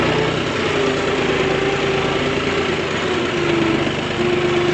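A tractor engine idles and runs at a steady, loud drone with a constant low hum and rumble, close by, during a straw harvest, with no talking.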